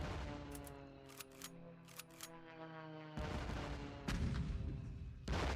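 Auto cannon attack in the KARDS card game firing in rapid bursts of sharp shots, followed by heavier, sustained blasts and rumbling impacts, loud with no talk.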